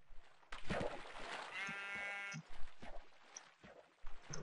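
Sheep in Minecraft bleat several times in a row, a clear wavering cry in the middle followed by shorter bleats, with game effects around them.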